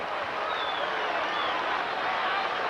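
A capacity crowd fills the Meadowlands Arena for the 1991 NCAA East Regional Championship basketball game between North Carolina and Temple, producing a steady, dense roar that holds throughout.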